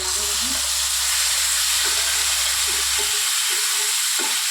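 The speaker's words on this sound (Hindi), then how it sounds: "अभी यहाँ पे हम टमाटर डाल देते हैं।" Chopped tomatoes hit a hot pan and sizzle loudly with a steady hissing fry, along with a few scraping stirs near the end.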